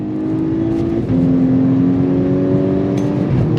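A VW Golf R Mk6, an AWD four-cylinder hot hatch, revs hard under acceleration, its loud, close engine note climbing steadily with a brief dip around a gear change, no voices over it.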